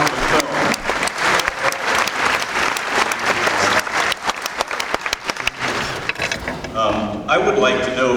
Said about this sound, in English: How about another round of applause for the film?